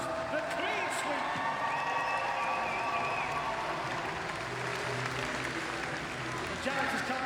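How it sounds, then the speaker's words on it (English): Steady applause from a crowd at a para swimming medal ceremony for a Canadian gold, silver and bronze sweep, with an announcer talking over it and no break in the clapping. "One more chance to give them a round of applause."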